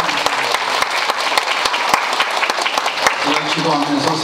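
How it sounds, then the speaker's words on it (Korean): A church congregation at a Korean Christmas service claps warmly and continuously, with dense, steady applause from a large indoor crowd and a voice briefly heard over it near the end. "더 뜨겁게 박수 한번 해주세요."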